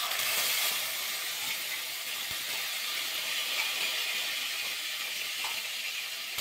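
Spice paste of ground ginger, green chilli, tomato and cumin hitting a hot pan, a steady broad hiss of frying that holds evenly throughout with no talk.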